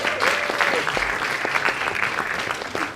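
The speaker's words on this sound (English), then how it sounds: "The claps are catching up to the degrees" Audience applause at a medical school white coat graduation ceremony, a steady patter of many hands clapping in a hall, fairly close and continuous with no break.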